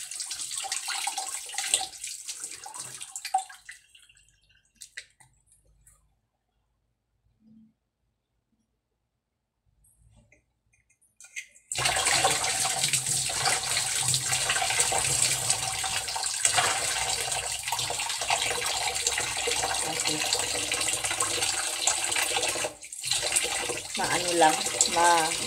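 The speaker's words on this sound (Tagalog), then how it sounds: "Magbanlaw tayo." Water runs from a tap while a face is rinsed, starting with a brief splashing burst, then near silence, then a strong, steady, close gush that continues to the end, with some talk over it.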